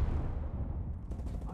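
Game explosions and heavy gunfire from a first-person shooter, with a frag grenade thrown during a firefight, rumble on continuously and loudly throughout with a voice talking over it.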